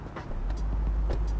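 A car engine idling in the Big Ambitions video game, a steady low rumble that starts softly and holds loud and even, with faint higher noises above it.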